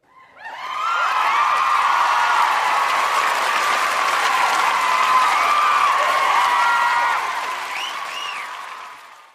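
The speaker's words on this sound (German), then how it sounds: "Und das gebührt schon mal einen Applaus an euch, unsere Bezirke, Ortsgruppen und unseren Mitgliedern." Sustained, loud applause from a large gala crowd at a rural youth association's live show, building quickly and holding steady for several seconds, with a few whoops mixed in before it gradually tapers.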